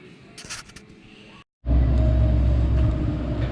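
Several cars from a Saleen fleet idle while warming up outdoors for neighbors, a loud steady low engine rumble after a brief quieter stretch with faint background sounds and a short silence.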